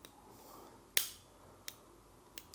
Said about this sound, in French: je tire les classes en arrière, j'abaisse le levier de démontage